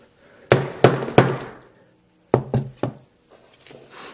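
A hammer strikes a Samsung Galaxy S7 Edge smartphone in six sharp, loud, glassy knocks: three in quick succession, a pause, then three more, each with a short ringing tail.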